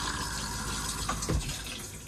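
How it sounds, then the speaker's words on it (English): A mobile home's push-button toilet flushes with a steady rush of water, close and fairly loud, swelling briefly partway through. "You can flush it by pressing this button here."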